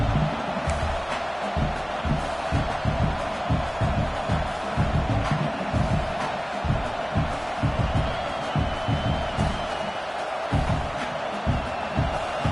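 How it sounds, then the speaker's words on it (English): A huge college football stadium crowd roars loudly and continuously, the stadium vibrating, with thumping stomps and occasional whoops rising over the din. "listen to this crowd noise. This stadium is vibrating."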